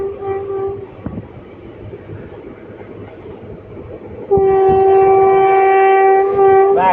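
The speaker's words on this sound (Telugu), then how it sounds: "వాడి కాచిగూడ ప్యాసింజర్ అండి" A Wadi–Kacheguda passenger train approaches and passes, its horn sounding a short blast and then a long, loud, sustained blare over the rumble of the rolling wagons.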